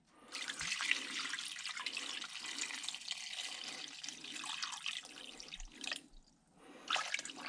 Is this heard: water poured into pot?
yes